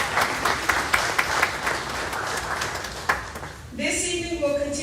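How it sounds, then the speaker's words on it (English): An audience at a school district bond meeting claps for several seconds, then the clapping dies away and a soft sustained tone takes over. "Let's give yourselves a round of applause."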